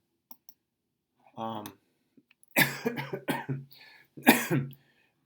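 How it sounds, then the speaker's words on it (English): A person coughs several times in a rough, close cluster after a short vocal sound, with a final harsh cough at the end. "That is not a Corona cough"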